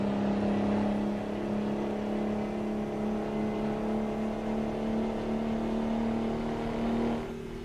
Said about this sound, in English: If this engine and exhaust was on a race car, it would just look perfect.